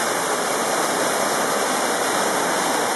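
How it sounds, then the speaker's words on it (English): A waterfall roars steadily from close by, seen from the top edge, a dense unbroken rush of falling water filling the whole clip with no voices. "Top view from the waterfall."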